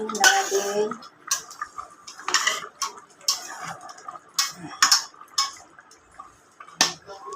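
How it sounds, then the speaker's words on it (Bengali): Spoon stirring mung dal cooked with katla fish in a pot, giving a series of irregular metallic scrapes and clinks against the pot, close and fairly quiet, with gaps of silence between strokes. "এখন একটু নাড়াচাড়া দিই"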